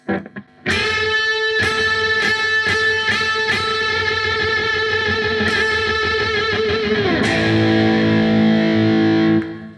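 A loud, heavily distorted electric guitar plays screaming string bends, sustained, harmonically rich and dissonant, with sharp re-attacks, ending on a ringing, wavering chord; no voices.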